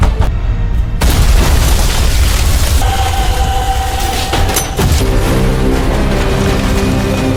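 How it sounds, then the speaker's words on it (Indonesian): A loud, sustained explosion blast fills a scene from an Indian film where an office is blown up, with a heavy rumbling roar continuing throughout and a brief shift partway. "Setelah jam makan siang, Ranagal mengunci gerbang kantor lalu meledakkan seisi kantor"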